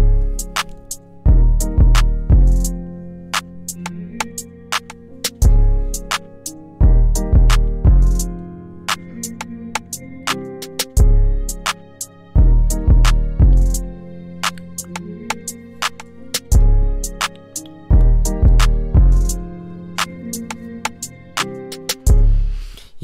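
A full trap beat at around 160 to 170 BPM built on an unusual chord progression, loud and continuous, with booming bass hits and crisp rapid hi-hats over sustained chords, repeating in even phrases with no voices.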